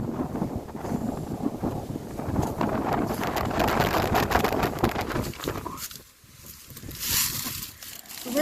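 Brisk wind buffets the microphone outdoors beside a historic church on Grand Isle, a steady loud rush that dips briefly near the end before gusting back up.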